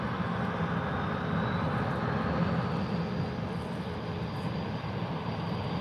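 TUI airliner in blue livery taxiing at Faro airport, a steady, continuous jet engine rumble and whine holding at constant loudness throughout, with no voices.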